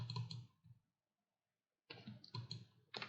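A computer mouse is clicked a few times in quick short bursts, with a silent gap between the first and second groups.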